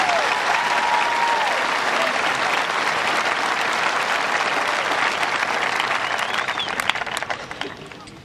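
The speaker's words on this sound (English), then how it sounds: "Another round of applause." Dense, sustained audience applause fills a high school graduation ceremony, a steady roar of many hands clapping at close range that tapers slightly at the end, with faint crowd murmur beneath.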